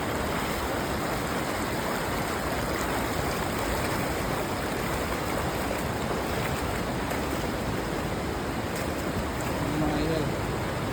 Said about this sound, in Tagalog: Agos yung tubig talaga eh.